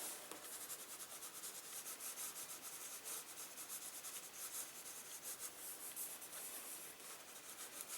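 Drawing materials rubbed and smeared across paper while sketching a face, a faint, steady, rapid scratching and rubbing with no voices.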